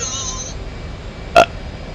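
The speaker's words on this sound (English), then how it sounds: "That was a water burp." A single short belch, a water burp, bursts out loud and close over a quiet hum of background noise from a DCS F/A-18C flight simulator session.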